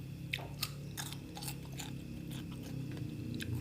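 Close, crisp crunching of someone chewing spicy Thai grilled pork neck salad with crunchy chilled vegetables, a series of sharp bites and mastication crackles about every half second, with no talk.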